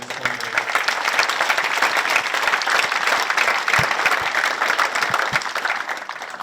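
A bowling center crowd at a Storm Lucky Larsen Masters final gives sustained applause, dense steady clapping throughout with occasional louder claps standing out, fairly close and without pause.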